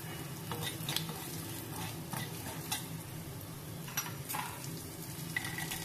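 Cashews and grated coconut fry in a pan for a panchamrut offering, giving a steady soft sizzle broken by scraping stirs of a spatula, close and moderately quiet, with no voices.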